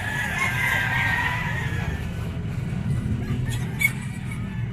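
A dark-legged stag gamecock crows over a steady low rumble of background noise, its call rising and drawn out early on, heard at moderate distance with other faint bird sounds behind it.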